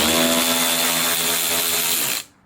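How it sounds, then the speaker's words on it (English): A power tool, likely an impact driver or drill, spins out a bolt in the front wheel well of a 5th-gen Toyota 4Runner, running loud and steady for about two seconds before stopping abruptly. "And now we're going to remove this bolt."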